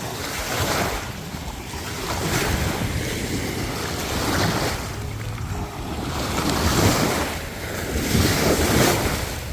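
Ocean surf at Bang Saen beach, Thailand, washing in and out in steady swells, with wind buffeting the microphone; no voices.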